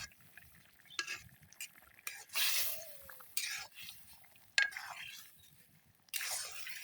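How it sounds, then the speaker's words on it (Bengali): A spoon stirs cumin and garam masala paste into a nearly finished curry, making intermittent wet scraping and clinking strokes over a faint simmer. "এখন এই যে জিরা গরম মশলা বাটা মিশিয়ে নিতেছে মা"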